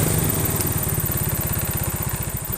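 A Yamaha Mio scooter engine idles during an idle adjustment, giving a loud, close, steady putter with an even rapid pulse and no talk.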